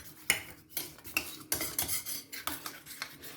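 Spoon clinking and scraping against a bowl while maida flour paste is whisked smooth for potato cutlet batter, a steady run of close, bright metallic taps and swishes, no voices.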